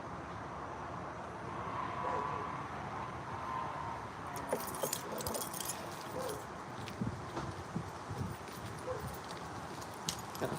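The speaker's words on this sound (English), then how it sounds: "Got a huge mess of keys on me." A large bunch of keys jangles outdoors, irregular metallic clinks and rattles popping up over steady wind and background hiss, mostly in the second half.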